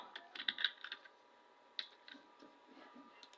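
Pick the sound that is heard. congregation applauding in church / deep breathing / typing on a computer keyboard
typing on a computer keyboard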